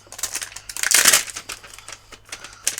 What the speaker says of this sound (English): Sorry about the noise from the acetate.